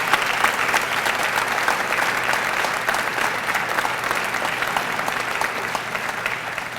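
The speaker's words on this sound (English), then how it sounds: "Let's have a huge round of applause for our employees of the" Sustained audience applause at a school district employee retirement and recognition ceremony, steady dense clapping from a large crowd throughout, fairly near and even in loudness.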